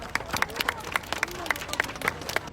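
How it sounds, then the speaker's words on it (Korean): An audience at a Sewol ferry memorial ceremony applauds, a brief burst of regular clapping with several crisp, evenly spaced claps over faint crowd murmur. "서로를 위해 박수 한번 부탁드리겠습니다"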